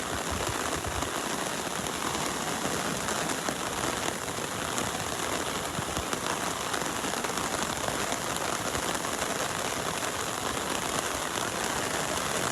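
Heavy tropical-storm rain from Elsa pelts an umbrella on a Florida beach, a continuous close hiss and patter of drops that stays even and loud with no voices.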